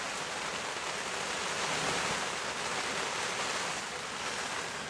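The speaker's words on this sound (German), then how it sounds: "So muss es sein, es regnet. Es regnet seit Stunden" Steady rain falling during a holiday in England, a dense continuous hiss heard outdoors at moderate level with no voices.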